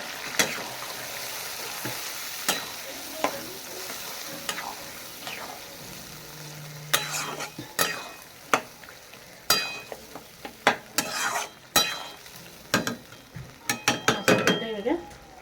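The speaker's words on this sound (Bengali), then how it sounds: "মাছটাকে এভাবে কড়া করে আমি ভেজে নেব" Fish seasoned with salt and turmeric frying crisp in hot oil, a continuous sizzle broken by repeated sharp scrapes and clinks of a utensil turning it in the pan, busier toward the end.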